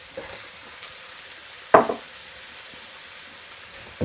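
Carrots and capsicum sizzling in a hot pan, a quiet steady hiss broken by one clear scrape of stirring near the middle and a few soft knocks; no talking.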